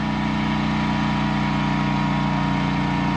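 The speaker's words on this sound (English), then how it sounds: "You can hear the generator in the background, and that's charging the batteries" A generator runs steadily in the background, charging batteries for a crop-spraying drone used to apply fungicide in a field, giving a continuous mid-pitched engine hum with no talk.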